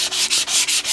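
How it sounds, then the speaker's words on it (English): Close, rhythmic sandpaper strokes rasp back and forth over a hardwood stair newel post, about five quick passes in a second, with no talking. "You do need to be careful when sanding a hardwood"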